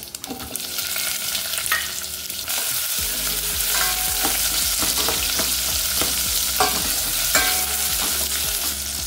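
Onion, dried chillies and crushed garlic fry in a pan with a constant loud sizzle, while a spoon stirs and scrapes repeatedly, with no talking.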